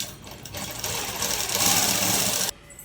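A sewing machine runs fast, stitching lining and dress cloth together for a long frock, a close, steady mechanical whir that builds slightly and stops abruptly near the end.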